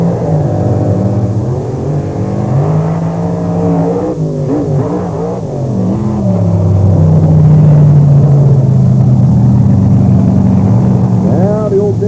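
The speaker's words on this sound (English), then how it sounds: "Dennis Anderson makes it look easy as the Grave Digger picks up yet another win" Grave Digger monster truck accelerating hard down the right lane in a drag race at the 1998 Thunder on the Beach event in Wildwood, NJ, a loud sustained engine roar rising in pitch, with a commentator talking over it throughout.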